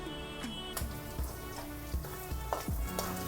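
Curry leaves dropped into hot oil for a chutney crackle and sizzle steadily with sharp pops, close and fairly quiet, no talk.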